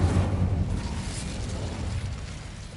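A fiery Incendio spell blast in Hogwarts Legacy, a dense roaring burst that flares loud at the start and then rumbles on as a steady crackling wash with no talk.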